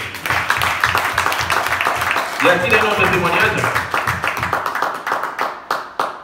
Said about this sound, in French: Applaudissons pour l'encourager